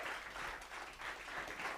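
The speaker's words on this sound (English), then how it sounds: "Give a round of applause." A pitch-session audience applauds, a brief, fairly faint burst of many hands clapping in a room, even and continuous throughout.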